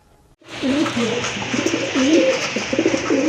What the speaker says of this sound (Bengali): দেখেন মুষলদম কবুতর, অনেকদিন পরে দেখলাম